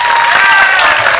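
A studio audience gives a short, loud burst of dense applause for a birthday on a Telugu television show, a steady clapping wash lasting about a second.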